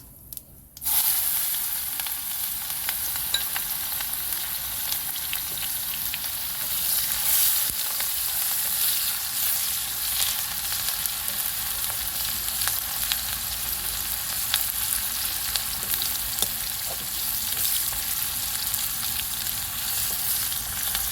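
Chopped onion frying in hot oil with cardamom and cumin seeds for a fish curry with potato and eggplant, a steady close sizzle that crackles and spits continuously with no voices.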